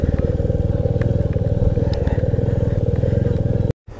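A motorcycle engine runs steadily with a pulsing low throb while riding down the Zoji La mountain pass, close and loud, with faint clatter and a short dropout near the end.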